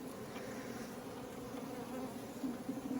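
Honey bees fly actively around a hive, a faint, continuous low hum of many wings from a distance, swelling slightly near the end.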